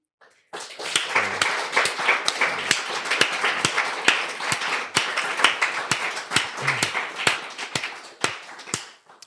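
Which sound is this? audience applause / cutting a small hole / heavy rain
audience applause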